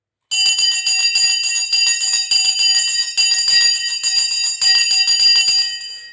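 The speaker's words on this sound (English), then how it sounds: "The bell has now gone and we are off and running" A stock market opening bell rings loudly and continuously for several seconds, its rapid metallic clanging steady and close, with no voices over it.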